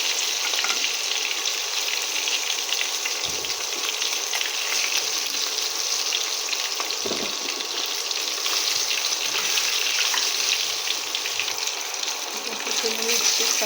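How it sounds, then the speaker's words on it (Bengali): Fish frying in hot oil in a wok, a steady bright sizzle and crackle running throughout, with brief soft clinks and stirring as pieces are lifted out; no talking. "আমি মাছগুলোকে ভেজে তুলে নিয়েছি"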